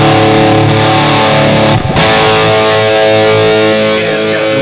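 An electric guitar plays through a Lekato PA-1 pocket amp on a preset with reverb, a loud distorted sustained chord that rings out, briefly breaks near two seconds, then carries on.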